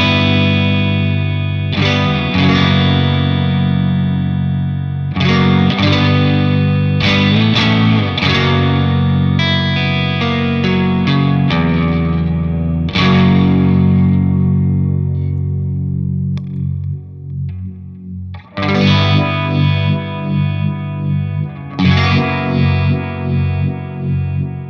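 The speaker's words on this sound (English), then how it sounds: "first we'll just hear the guitar by itself." An electric guitar through a Shin-ei Vibe 2 effect into a 4x12 Diezel cabinet, playing loud strummed chords and ringing sustained notes with a swirling, chorus-like warble for about twenty-five seconds, with no talking.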